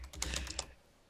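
Rapid keyboard typing, a short burst of several close, crisp key clacks that fades out within a second.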